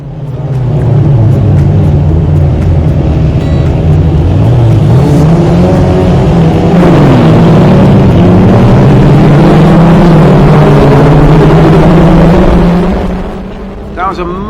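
A classic Formula Ford race car at Cadwell Park sits on the grid with its engine held near 5,000 RPM, a loud, steady, buzzing drone that rises and wavers as the car pulls away from a race start.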